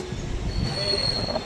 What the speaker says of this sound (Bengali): এই মুহূর্তে আমাদের ট্রেন প্রবেশ করছে